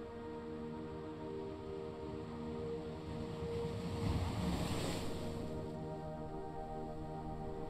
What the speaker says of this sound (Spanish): Puedes escuchar el sonido del mar.